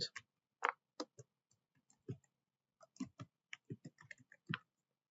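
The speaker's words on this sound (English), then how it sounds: "I'm going to cheat and use my keyboard." Keys on a computer keyboard at a point-of-sale terminal click in a sparse, uneven run of soft, close taps that come singly and in small clusters, with no talk in between.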